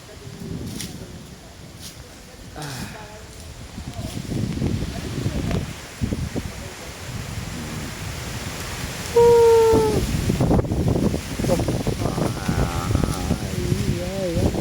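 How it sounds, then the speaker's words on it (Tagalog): Strong wind blowing outdoors near Clark, a rough buffeting rumble hitting the microphone in gusts, loud and continuous, with a person talking at times and a brief tonal whine partway through. "Grabe yung lakas ng hangin."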